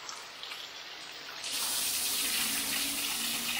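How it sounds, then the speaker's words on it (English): Water rushes steadily through a small micro hydro turbine generator, a broad hiss that swells from a quieter start into a loud, continuous flow, with a faint low hum rising beneath it. "Water's flowing."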